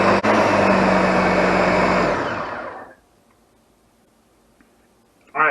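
Countertop blender whirring loudly through a thick berry smoothie, a steady dense roar for over two seconds that winds down and fades to quiet, with a short voice sound at the very end.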